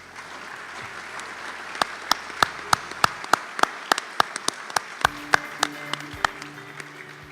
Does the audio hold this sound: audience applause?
yes